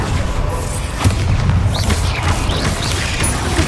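Bombarda blasting spell cast in the Hogwarts Legacy video game, a loud booming explosion with crashing debris over a dense, continuous rumble, game music and effects layered throughout.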